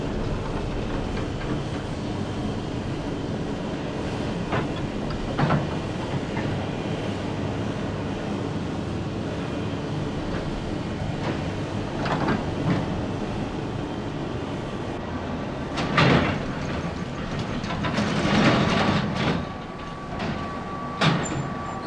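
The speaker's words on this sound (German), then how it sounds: "Er fährt den Füllwagen zum Kohlenturm" A coke oven charging car at the Anna coking plant rumbles along its rails toward the coal tower, a steady low mechanical drone with scattered clanks and squeals that grow louder toward the end.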